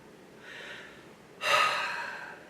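A soft breath out, then a sharper, louder exhale through the nose that trails off into quiet, close and breathy with no talking.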